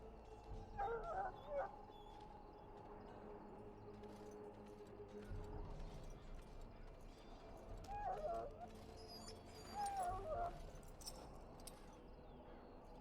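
A dog in the video game Dragon Age: Origins gives soft, short whimpers and yips in a few brief bursts over a quiet in-game ambience, with faint background sounds.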